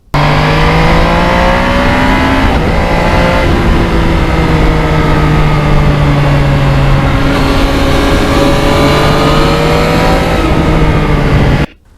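A 2020 Yamaha MT-09 crossplane triple motorcycle repeatedly revs up through the gears with a quick shifter, pitch climbing then dropping with each quick shift, a close, continuous high-revving roar.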